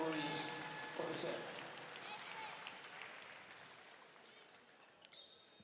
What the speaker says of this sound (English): Let's give a big round of applause to our referees for this game.